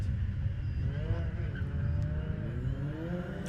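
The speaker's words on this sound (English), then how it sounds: "We are ready to race, the revs are building." Rallycross race cars revving their engines on the grid before the start at Pembrey: a loud, continuous low engine rumble with rising and falling revs from several cars nearby, and faint commentary underneath.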